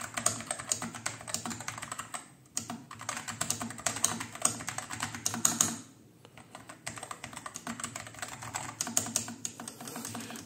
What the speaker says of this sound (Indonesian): ini ya contoh dari suara keyboardnya ya